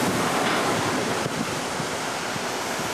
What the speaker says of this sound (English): The bottom floor, the waves are crashing over the deck.